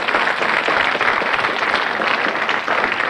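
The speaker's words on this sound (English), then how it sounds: "Give him a round of applause." Studio audience applause on the 1983 Blockbusters game show, a dense, steady burst of clapping from a full room that stays loud and even throughout.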